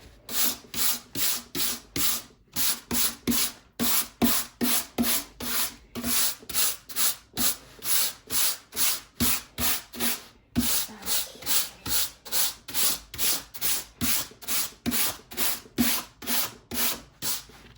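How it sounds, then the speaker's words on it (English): Nail brush scrubbing the underside of a finished diamond painting, a loud rhythmic back-and-forth bristle rasp, about two strokes per second with brief pauses, close up and without talk. "now I've brushed out any extra wax bits, any dust, crumbs, dirt, whatever you got here"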